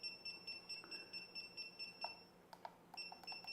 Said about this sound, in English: Love them loud beeps.